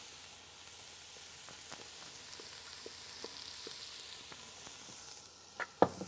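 Onion frying in olive oil in a pot, a steady close sizzle with faint scattered ticks and stirring clatter near the end.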